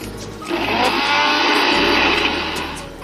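A mixer grinder blitzes garlic and onion for egg kurma, a loud motor whine that rises sharply, holds steady for about two seconds, then winds down.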